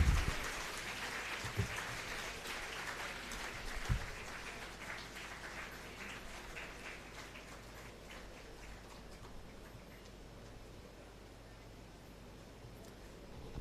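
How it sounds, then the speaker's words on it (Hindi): Hall applause at a university undergraduate student induction program, a soft patter of many hands heard from a distance, fading after a couple of louder bursts near the start. "अभी तालियां बजनी चाहिए"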